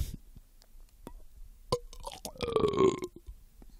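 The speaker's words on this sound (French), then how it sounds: "Pardon, je rote." A man lets out a single wet, gurgling burp, close and fairly loud, with a few soft mouth clicks and smacks around it and no talking.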